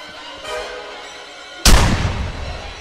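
A single loud gunshot cracks out close by in Friday the 13th: The Game, after a quiet stretch, then decays with a short echoing rumble.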